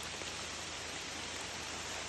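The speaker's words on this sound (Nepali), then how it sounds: "खतरा पानी पर्यो यस्तो भयो जङ्गल यस्तो भिज्यो" Heavy rain pouring down in a forest, a thick, unbroken hiss of drops on leaves and ground, steady and enveloping with no voices.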